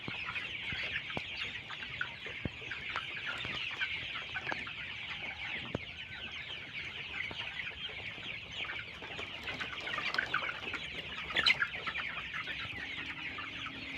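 Many broiler chickens in a poultry shed cluck and chatter together in a dense, continuous din, steady throughout with occasional louder individual calls near the end.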